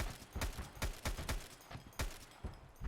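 A raider keeps firing his gun in Escape From Tarkov, a run of sharp gunshots, some in quick pairs and others spaced apart, loud and close with no talking.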